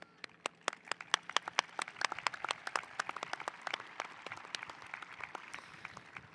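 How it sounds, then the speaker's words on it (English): Audience clapping at a high school graduation ceremony, a scattered run of sharp individual claps from a modest crowd, fairly faint and distant, steady for several seconds without talk. "Let's take a moment to applaud the contribution that each person in the lives of each graduate has made"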